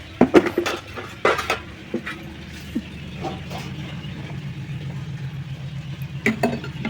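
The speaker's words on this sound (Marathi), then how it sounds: "झालं आता उतरून ठेवायची झाली आपली आमटी" A pot of amti, a lentil curry, comes off the stove with a few sharp metallic clanks and knocks at the start. A low, steady rumble follows, then more clatter near the end.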